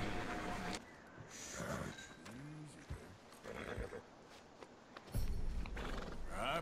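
A horse in the Red Dead Redemption 2 video game snorts and whinnies amid soft hoof clops and shuffling, with a few quieter gaps between bursts of sound.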